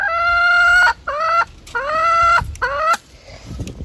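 A hen clucks up close in a series of four loud, drawn-out, squawking calls separated by short pauses, with no other sounds around.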